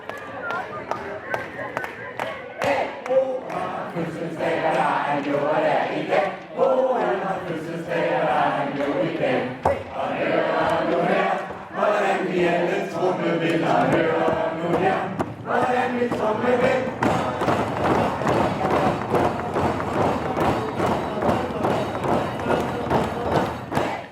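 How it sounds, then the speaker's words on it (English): A crowd of many voices sings a Danish birthday song together in a loud, steady chorus, with some thumping and clapping mixed in throughout. "what you hear is a birthday song that is Danish"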